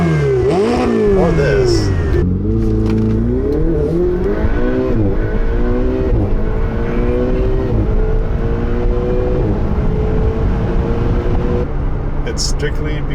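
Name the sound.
2016 Ferrari 488 engine revving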